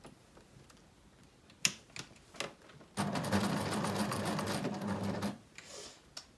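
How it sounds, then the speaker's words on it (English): A domestic sewing machine backstitches at the start of a dart on garment fabric, opening with a few sharp clicks and taps before a steady, fast mechanical whir of stitching that stops abruptly after a couple of seconds. "we obviously want to just backstitch at the start"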